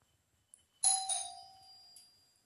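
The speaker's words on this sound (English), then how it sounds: "I think you people were able to hear the doorbell." A doorbell rings once in a home, loud and close, with a bright chiming tone that rings out and fades slowly over about a second and a half, after a brief click.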